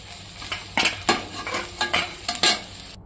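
Potatoes frying in oil in a pan while being stirred, for an Odia besara fish curry: a steady sizzle with repeated scraping stirs of a spatula, close and clear, no talk.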